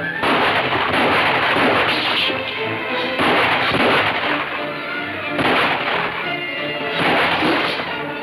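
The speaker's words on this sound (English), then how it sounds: "all that shooting" Gunfire rings out in a Western show, a series of loud, sharp bursts coming in clusters every couple of seconds, each shot echoing broadly and filling the scene without any talk over it.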